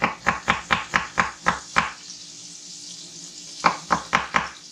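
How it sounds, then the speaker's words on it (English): A knife slices garlic on a cutting board in quick rhythmic chops, about eight close sharp strokes, a pause, then four more, with faint water or sizzle in the background. "I'll take and slice this garlic"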